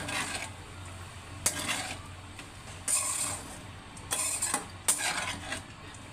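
Sago khichdi being stir-fried in a pan, a soft frying hiss punctuated by repeated scraping bursts of a spatula against the pan, close and fairly quiet, no talking.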